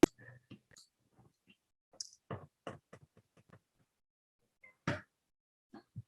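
Sparse, faint mouse clicks in a quiet room, a few sharp isolated taps scattered unevenly with silence between.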